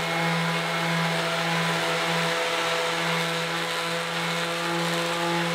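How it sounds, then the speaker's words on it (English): A power sander runs continuously on wood with a steady, loud whirring hum and gritty hiss, unchanging throughout and close by. "Now a little bit of pre-assembly sanding."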